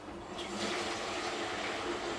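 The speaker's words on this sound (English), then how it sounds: "you just put some cold water" Cold water pours into a grape concentrate container for homemade wine, making a steady, rushing gush of liquid close up for a couple of seconds.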